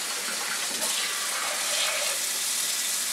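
Hot metal parts hiss and sizzle after being dropped into a pan of vinegar for rust removal, a steady bright fizzing wash that swells slightly partway through, with no talking.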